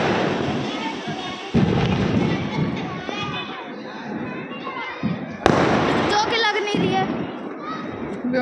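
Diwali firecrackers, including bijli bombs lit all together, crackle and bang outdoors in sudden bursts of sharp pops and thumps, some fairly loud, while a person talks over them throughout.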